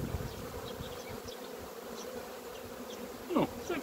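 Steady buzzing of many honeybees at an open hive, undisturbed for six months, close by, a dense continuous drone with a few individual bees flying past near the microphone.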